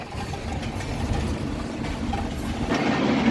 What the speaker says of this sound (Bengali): অস্থির একটা ভিউ রে, ট্রেন যাইতেছে